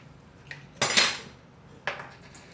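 A utensil clinks and scrapes against a bowl while dip made with kale, garlic and leek is mixed. A few sharp, close strikes come out of a quiet background, with one louder clatter and then a lighter one.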